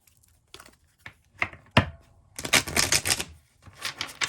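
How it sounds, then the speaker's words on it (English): Little Prince Tarot cards being shuffled up close in crisp bursts of riffling and slapping, separated by short pauses, with no talking. "such a sexy shuffle sound"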